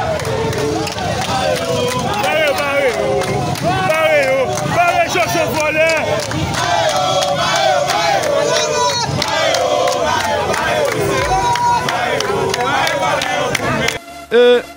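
Many voices chant a repeated refrain together, loud and rhythmic, a dense crowd sound that cuts off abruptly near the end.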